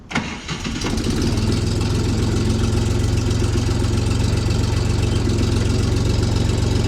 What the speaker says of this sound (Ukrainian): Давайте запустимо каймовський двигун.